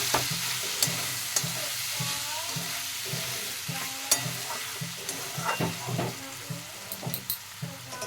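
A utensil stirs cabbage and egg with chili, coriander and cumin powder in a sizzling pan, steady frying hiss under repeated scraping strokes and light knocks, close and moderately loud.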